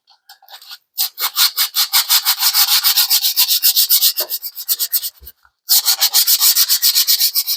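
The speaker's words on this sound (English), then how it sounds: "sand it like so" A bass guitar neck is sanded by hand with folded 220 grit sandpaper in quick, steady back-and-forth strokes, close and loud, with a brief pause before the rubbing picks up again.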